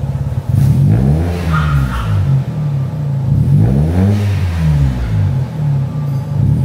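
A Toyota Raize fitted with an aftermarket downpipe exhaust revs loudly up close, its engine rising and falling through several throttle blips over a steady idle.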